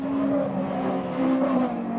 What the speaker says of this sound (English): A very big gap indeed between the two leading Vauxhalls, Alan Harbour and Martin Tinker's white car